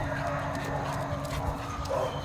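Dogs bark and yip at an animal shelter, a steady busy mix of barks and whimpers layered over a constant low hum, with voices faintly present.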